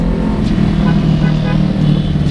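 A speeding car on a road, heard as a loud, steady engine roar and road rumble throughout, close by, with no voices.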